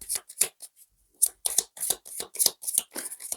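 Rapid riffling bursts of a deck of cards being shuffled, close up, in quick irregular flurries with brief pauses.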